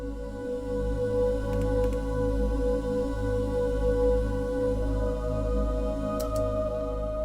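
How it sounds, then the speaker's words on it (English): A sampled choir instrument in Logic Pro X plays a sustained pad of blended voices holding steady chords, rich and even, with no one talking. "this might be one of the best choir sounds I've ever heard."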